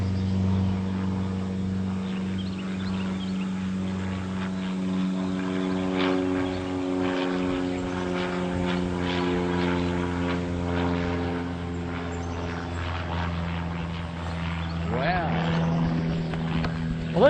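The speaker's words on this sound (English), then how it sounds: "I hope you saw that plane." Propeller airplane passing overhead with a steady droning engine hum and harmonic whine, moderately distant, rising slightly near the end, outdoors during a hot-weather hunting trip.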